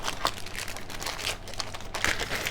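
Board game cards being sorted by hand close by: soft papery shuffling and crinkling with light flicks and slides, quiet and continuous, with no talk.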